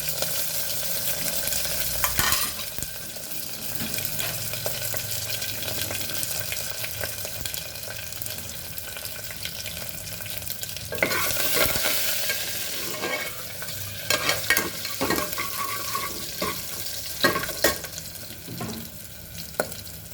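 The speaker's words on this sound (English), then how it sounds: "And now we'll add all our other things: cinnamon stick, cloves, garlic, curry leaf, and our saunf." Cinnamon stick, cloves, garlic, curry leaves and fennel seeds sizzle in a pressure cooker pot for moong dal khichdi, a loud continuous crackle with scraping stirs and clatters, with no talking.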